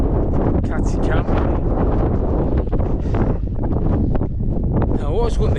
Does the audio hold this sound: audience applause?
no